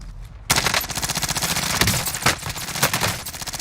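Rapid automatic gunfire from a video game, loud and close, a dense stream of shots running continuously after a brief quiet start, with a few heavier bursts standing out.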